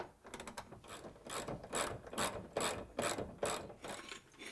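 A ratchet loosens the bolts on a vehicle's fuel tank strap with rapid clicking bursts, then settles into a rhythmic series of about eight close, crisp ratcheting strokes evenly spaced.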